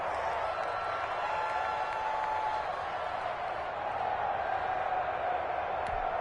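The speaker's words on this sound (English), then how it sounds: "the crowd getting into it as we come up on a big 3rd down" Football stadium crowd during the 4th quarter ahead of a big 3rd down, a steady, dense roar of cheering fans throughout, broad and unbroken with a faint whistle-like tone riding on top.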